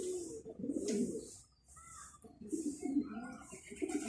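Pigeons kept by a backyard bird raiser cooing nearby, soft low repeated coos in two short bursts with a brief pause between, faint bird chirps above.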